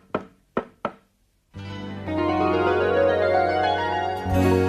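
Three sharp knocks on a door in quick succession, loud and close, followed by sustained music.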